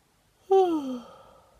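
A single drawn-out vocal exhale during a yawning exercise, falling in pitch and fading, in a quiet room.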